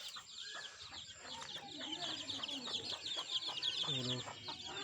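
Desi chickens and their chicks on a small farm cluck and peep in a continuous busy chorus, with a brief louder cluck near the end and a faint high tone running throughout.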